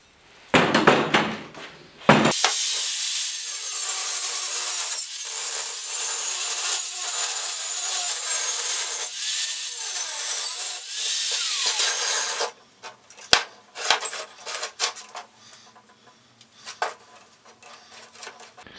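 A saw cuts steel for a front receiver hitch on a 1967–1972 Chevy or GMC pickup, giving a loud continuous rasping stroke for about ten seconds, framed by clanks and handling noises before and after.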